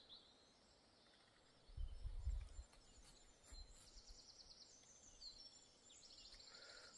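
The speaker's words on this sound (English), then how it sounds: "The birds going crazy." Birds call and chirp faintly around a morning forest camp, scattered high tweets over a quiet background, with a few low bumps from nearby handling.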